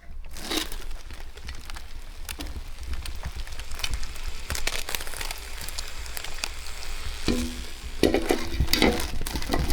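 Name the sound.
roast sizzling in crock pot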